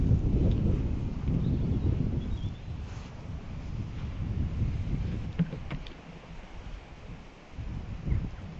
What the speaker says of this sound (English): I think it's the breeze